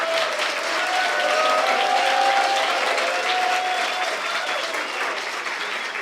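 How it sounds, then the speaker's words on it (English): Audience applause at a youth national accountability charter convention, a steady, dense wash of clapping from a large crowd that holds for the full stretch without pause. "Please clap for the president."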